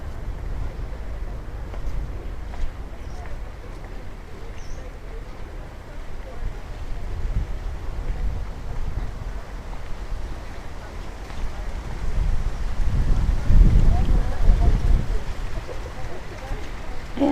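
Strong wind buffets the microphone in a constant low roar, swelling into heavier gusts toward the end, outdoors in Da Nang, Vietnam.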